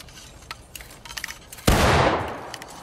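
A single musket shot in the video game War of Rights, a sudden loud blast with a long echoing decay, preceded by faint distant pops and scattered quiet noises.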